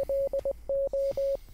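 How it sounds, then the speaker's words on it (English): Morse code in a war-declaration moment of a Hearts of Iron strategy game, a clean steady beeping tone keyed in uneven dots and dashes, clear and fairly loud over a faint background hum. "I'm gonna do the Morse code."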